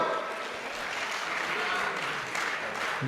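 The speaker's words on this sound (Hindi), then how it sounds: "भाई ताली बजाओ तो एक बार बजाओ।" An audience claps at a Hindi Holi kavi sammelan poetry recital: a continuous, fairly soft roll of applause from a large crowd, even in level from start to finish with no distinct voices.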